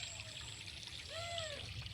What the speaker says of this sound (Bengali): লাস্ট পাটান জল দেওয়া হচ্ছে।